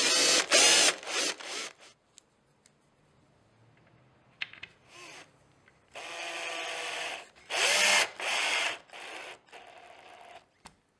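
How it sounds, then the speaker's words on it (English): A power drill whirs in several short bursts while drilling pilot holes into a panel, starting and stopping, with quiet gaps and faint handling noises between them. "Use the indents on the back of the panel as guides for drilling pilot holes for the buttons."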